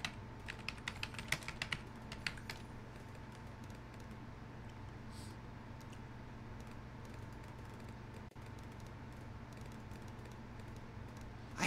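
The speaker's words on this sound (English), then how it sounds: "let me type this down." Quiet clicking keystrokes on a computer keyboard, brisk and irregular for the first few seconds, then fading under a steady low background hum.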